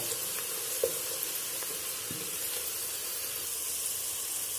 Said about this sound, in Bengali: শুকনা মরিচগুলোকে আমি রসুনের সাথে 1 মিনিট নেড়ে চেড়ে ভাজবো।